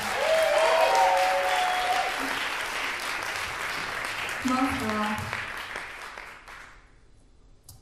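A concert audience applauds a band at a live student degree concert. The clapping is loud and dense, holds steady, then fades out near the end, with a single voice speaking over it.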